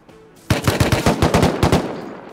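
Rapid automatic gunfire in the survival game Rust, a burst of about a dozen loud, punchy shots in quick rhythm starting abruptly after a brief quiet lead-in.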